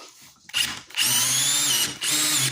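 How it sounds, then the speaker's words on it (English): A regular Dewalt screwdriver, not an impact driver, whirs loud and close as it drives a Dewalt flex shaft right angle attachment, running in two sustained bursts with rising pitch and a short pause between. "This is just a regular Dewalt screwdriver I'm using."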